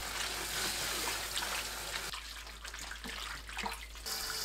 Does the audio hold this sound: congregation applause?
no